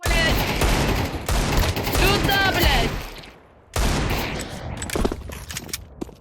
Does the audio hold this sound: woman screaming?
no